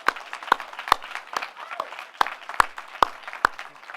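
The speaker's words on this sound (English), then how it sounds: "Could I get another round of applause for the class of 2016?" A few separate handclaps land in a loose, evenly spaced rhythm from a small group at a graduation thesis festival for an MFA interaction design class.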